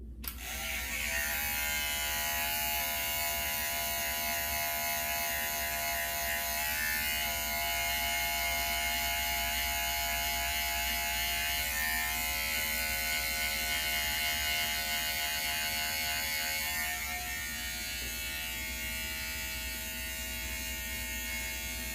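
A cordless hair trimmer fitted with a number 2 guard, lever open, buzzes steadily and close up while cutting a skin fade, a continuous electric hum with faint shifts in pitch and no talking over it.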